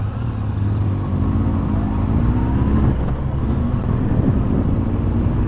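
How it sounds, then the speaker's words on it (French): A Ferrari passes on the road, heard from a Honda CB1300S motorcycle under a constant loud engine and wind drone, with a rising engine tone swelling midway. "Ah, une Ferrari. Bon, on va la laisser passer."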